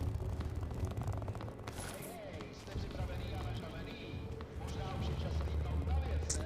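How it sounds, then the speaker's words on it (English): Fireworks or popping rockets going off outside an apartment in Golem City in Deus Ex: Mankind Divided, a run of booms and crackling bursts under a continuous rumble, with a voice talking over them. "Some sort of like fireworks thing is going off."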